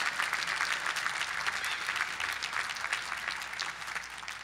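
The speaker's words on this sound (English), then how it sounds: "Poetry, give poetry a round of applause." A commencement crowd applauds loudly, steady clapping sustained from start to finish.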